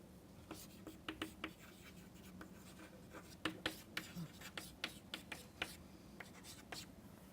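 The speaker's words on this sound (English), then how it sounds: "I'll write here" Pen strokes sound faint and close while someone writes math by hand, with quick scratchy marks in irregular bursts and soft speech in the background.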